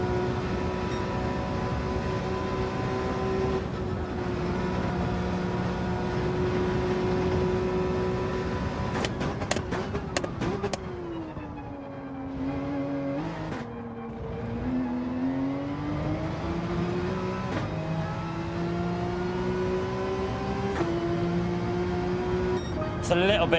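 A Porsche race car engine in Gran Turismo 7 drones at a steady high pitch, then dips and climbs through rev changes, with sharp clicks and brief bursts as it drives on.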